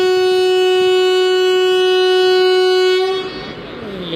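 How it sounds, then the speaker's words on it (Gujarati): A local passenger train's horn blasts as one long, loud, steady tone at a station before departure, cutting off abruptly near the end and leaving faint rumbling ambience. "લોકલે હોર્ન મારી દીધું છે"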